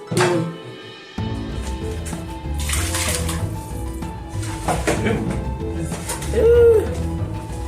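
Running water splashes and gushes into a frying pan in bursts while it is rinsed, with clattering of metal and brief bird-like squeaks; no clear talk.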